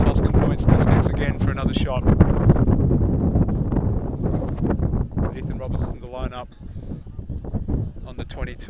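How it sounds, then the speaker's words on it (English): Strong wind buffets the microphone at an outdoor rugby ground during a Premier Grade club match, a steady loud roar of gusts running through the whole stretch, with voices mixed in. "The wind seems to have picked up quite a bit now as we've got into late in this first half."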